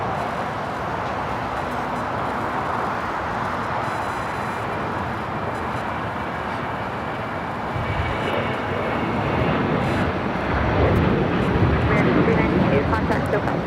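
An American Airlines Boeing 737-800 takes off from LAX on a runway, its jet engines producing a broad continuous roar that swells louder toward the end, with radio chatter in the background.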